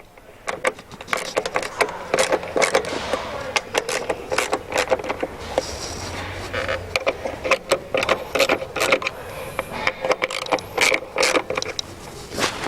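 Bolts loosen on the headlight adjustment of a BOSS snowplow: rapid ratcheting clicks and scraping metal come in busy bursts, close and fairly loud, with short lulls between and no speech.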